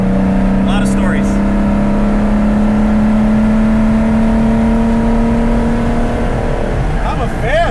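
A 1973 Porsche 914/6 with a high-compression 2.4 mechanical-injection flat-six engine revs steadily under load while driving, a loud close droning tone rising slowly in pitch, then easing off near the end.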